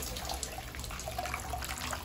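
Water sloshes and trickles steadily as a silk saree is dipped in a bucket of water and lifted out to rinse, a continuous close wet splashing with no voices.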